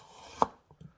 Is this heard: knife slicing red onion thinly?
yes